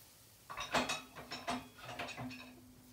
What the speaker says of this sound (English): now what I've got to do is I've got to stir this round and bring this up to the boil